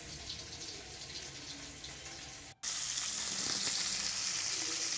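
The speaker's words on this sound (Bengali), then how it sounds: "মাছটাকে আমি তেলের মধ্যে দিয়ে দিয়েছি।" Silver carp seasoned with salt and turmeric hits hot oil, giving a steady hissing sizzle that cuts out briefly and returns louder and brighter, with no speech.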